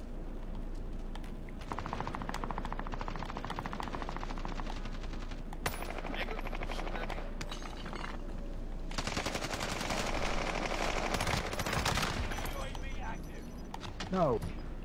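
Rapid automatic gunfire from a Warzone battle royale match, bursts of machine-gun fire and single shots crackling loud and close throughout, with game effects layered underneath and someone talking over the action.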